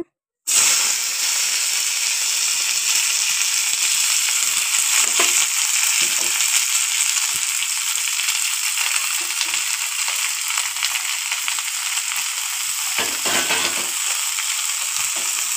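Food sizzles steadily in hot oil in a home kitchen pan, a loud, continuous hiss with faint crackle that begins abruptly and holds at an even level throughout.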